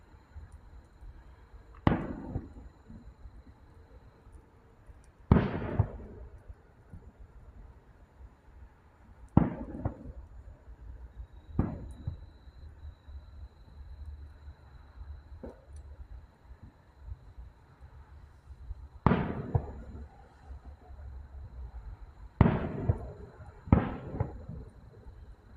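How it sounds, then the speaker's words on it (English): Distant fireworks bursting at night, a handful of separate sharp booms spread irregularly with quiet gaps between them, a couple arriving in quick pairs, each followed by a short fading echo. "Unless they set off fireworks over there every year for the 4th."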